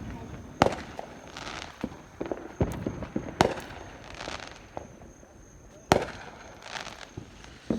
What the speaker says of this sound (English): Yo, look at all the fireworks